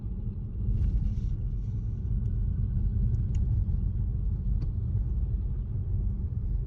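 Maruti Brezza CNG car cruising on a highway, heard from inside as a steady, loud low road rumble and engine drone with no talk.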